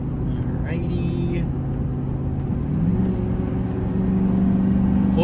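A 2005 Chevy Silverado pickup towing 5,000 pounds accelerates hard with the pedal floored, a steady loud engine drone rising in pitch from inside the cab, with road noise around it.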